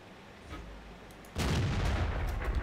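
A tank cannon fires in a video game. One heavy, loud boom hits suddenly and leaves a sustained rumbling roar behind it.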